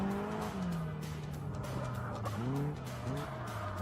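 Caterham race car drifting at Brands Hatch, engine revving and wavering under sustained tire squeal that rises and falls, close and fairly loud.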